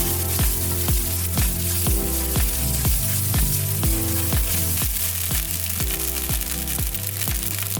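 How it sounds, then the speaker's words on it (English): Rice mixed with egg for Spam fried rice fries in a pan on high heat, a loud, constant sizzling hiss with a steady rhythmic beat running underneath. "After you cook the rice in high heat for about 5 minutes, turn down your heat to medium."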